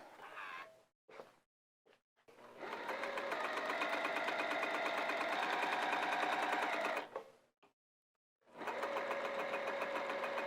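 Sewing machine basting around the edges of potholder pockets: a couple of short stitching bursts, then a long steady rattling run for about five seconds, a pause, and another sustained run close by.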